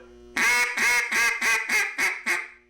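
A hand-blown duck call sounds seven loud, close quacks in a steady descending rhythm, each sharp and reedy with a short fading tail, mimicking a hen mallard's greeting call with no other sounds around it.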